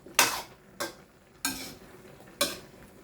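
Vegetables for pinakbet, including eggplant, being stirred in a pot, four distinct scraping clatters spaced about a second apart, close and fairly crisp.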